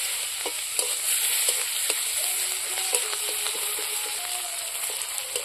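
Chopped onions fry in a pan with gentle oil for a fish and taro curry, giving a steady bright sizzle broken by scattered crackles and occasional light stirring taps, close and continuous with no talking.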